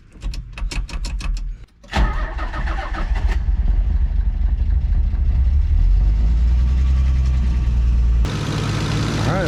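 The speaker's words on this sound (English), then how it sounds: "Let's get our jump pack and fire it up." A Nissan 300ZX drift car's engine is cranked with a jump pack: rapid rhythmic starter whirring, a brief pause, then the engine catches and settles into a loud, steady idle that rises slightly before easing off.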